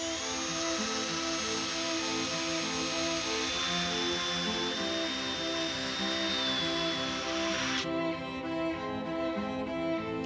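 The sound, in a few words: hand drill with sanding drum grinding metal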